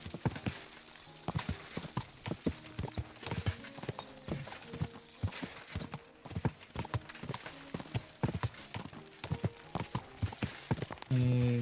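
Horse hooves clip-clop at a steady gallop in Kingdom Come: Deliverance 2, repeated close thuds running the whole stretch with game music beneath and a brief neigh near the end.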